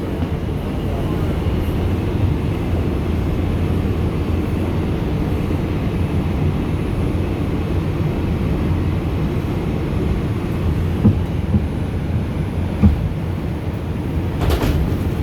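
An R142 subway car on the Bronx-bound 5 local rides through a tunnel with a constant loud rumble and roar, broken by a few faint clanks and squeals from the wheels and car body.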